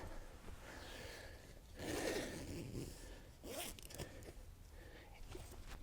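A zipper is pulled open along a Casper foam mattress cover in a few close, scratchy runs, with soft breathing and fabric rustle between the pulls.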